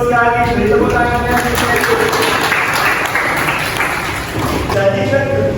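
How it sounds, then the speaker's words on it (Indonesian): Students in a senior high school classroom at SMAN 1 Mojokerto, Indonesia, break into applause, a broad wash of clapping from many hands, with voices talking over the start and end. "Beri tepuk tangannya."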